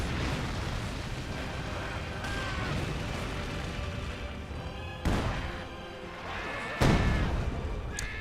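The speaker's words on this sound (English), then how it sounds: "But there we had another incendiary barrage" Incendiary artillery barrage in the real-time strategy game Company of Heroes 2, a dense rumbling battle bed broken by two sharp, loud blasts, the second the strongest.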